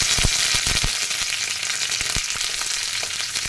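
Curry leaves dropped with ginger and garlic into hot oil for a ground-masala egg curry, crackling and sizzling loudly and steadily, with sharp pops scattered throughout and no voices.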